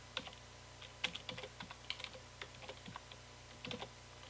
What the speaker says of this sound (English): All you're going to do though is type that in.